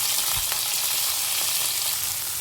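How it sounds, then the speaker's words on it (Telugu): Onions frying in hot oil with cloves, cinnamon, shahi jeera and bay leaf for chicken fry, a dense continuous sizzle close up and fairly loud, steady throughout with faint stirring. "ఆనియన్స్ కాస్త ఫ్రై అవ్వాలండి మంచిగా."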